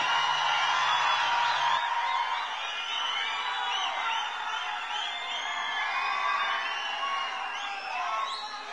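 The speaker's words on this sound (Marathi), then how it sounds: "महाराष्ट्रभर काम करणाऱ्या पंकजाताईंसाठी जोरात टाळ्या झाल्या पाहिजेत" A crowd at a political election campaign rally in Maharashtra cheers loudly, with whoops and whistles over a continuous roar of voices that keeps going for about nine seconds.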